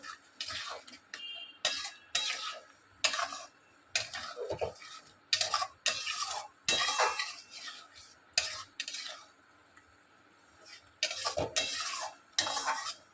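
Spice paste is stirred and scraped in a pan for a Bengali taro and hilsa dish, with a faint sizzle under it. The clinking, scraping strokes are close and come in irregular bursts, with a longer pause partway through.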